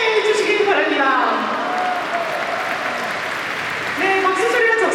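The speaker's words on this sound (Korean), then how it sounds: "여러분 박수로 환영해 주시기 바랍니다." Modest applause from a Rebuilding Korea Party national members' convention crowd at OSCO in Cheongju welcomes the K Tigers performance team, a steady wash of clapping under music and a voice.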